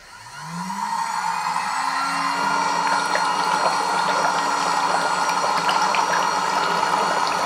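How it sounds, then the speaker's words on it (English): A Silvercrest foot spa hums to life, its motor rising in pitch before settling into a loud, steady vibrating drone over continuous bubbling water, with no talking. "As the bubbles and vibrations begin, you feel a light massage effect which stimulates circulation and soothes any soreness or fatigue"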